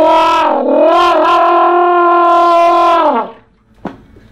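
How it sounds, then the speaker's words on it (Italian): A trumpet fitted with a plunger mute plays a growl effect: one sustained, buzzing note with a wavering start, held about three seconds and then cut off, close and loud, followed by a short faint knock. "questa sordina veniva molto usata per fare un effetto che si chiamava growl"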